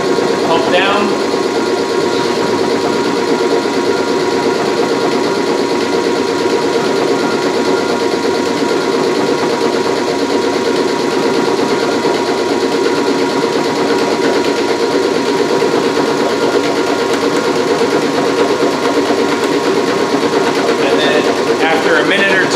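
A Stokes 212H11 vacuum pump runs steadily while pumping down, a loud, unbroken mechanical drone with a rapid rhythmic chug and whine, constant for over twenty seconds.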